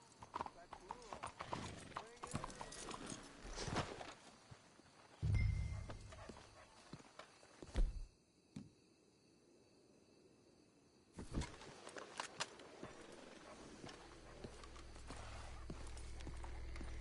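Horses' hooves clip-clopping in Red Dead Redemption 2, scattered hoof beats with a brief whinny amid outdoor ambience, a quieter still stretch in the middle, and people talking over parts of it.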